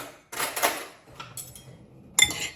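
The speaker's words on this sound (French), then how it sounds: "je vais venir mélanger" Salad being tossed in a bowl with a mustard, olive oil and balsamic vinegar dressing, heard as a few brief clinks and scrapes of utensils against the dish, close but quiet, separated by short pauses.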